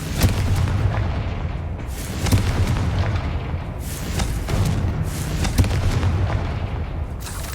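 Repeated blasting-spell explosions from a wizard school video game, a string of deep booms and bursts landing roughly every second or so, loud and close, over a constant low rumble with no talk.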